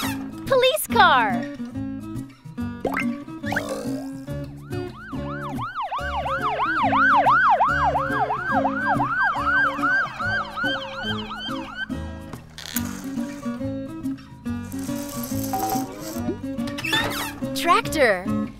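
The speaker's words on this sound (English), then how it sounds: "Police car." A wailing siren rises and falls repeatedly in quick cycles, loud and close, framed by bouncy music and voices before and after.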